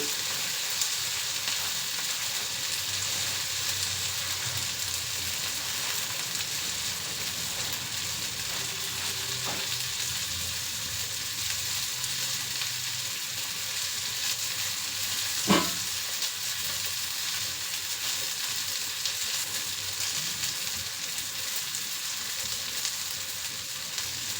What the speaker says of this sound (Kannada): ಬೆಳ್ಳುಳ್ಳಿ ಹಾಕಿದ್ದೀನಿ.